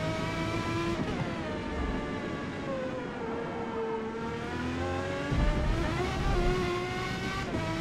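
Racing car engine in Forza Motorsport holding a steady high whine through laps, with rising and falling pitch sweeps as it shifts and accelerates, loud and continuous with no talking.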